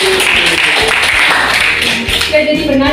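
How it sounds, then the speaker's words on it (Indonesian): A classroom of students claps together in a loud, dense burst of applause that continues steadily, with voices mixed in. "Jadi tepuk tangan pada ini."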